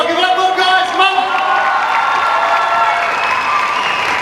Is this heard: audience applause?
yes